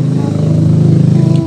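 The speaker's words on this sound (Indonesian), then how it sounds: "berisik ada motor." A motorcycle passes close by on a roadside, its steady low engine drone with a rapid pulsing throb filling the whole moment, loud and near without any break.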